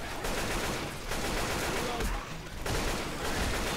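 Sustained gunfire in the Left 4 Dead 2 zombie game, a dense, continuous fusillade of rapid shots filling the whole stretch at steady loudness with only brief dips, no speech over it.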